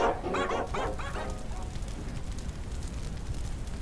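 A dog barks and yips in a quick burst of several sharp calls, then quiets into a steady low rumbling background.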